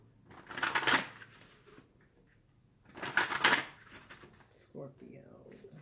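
An Aquarian tarot deck being shuffled, two bright papery riffle bursts a few seconds apart, close and crisp, with a soft voice faintly present between them.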